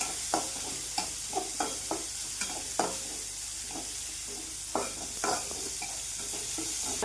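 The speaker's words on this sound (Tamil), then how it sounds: "வெங்காயம் வதங்கிடுச்சு." Onions, small shallot-type, sautéing in a pan while preparing sambar for a home lunch, with a steady soft sizzle and a series of spaced clicks and scrapes from stirring; close and fairly quiet, no talking.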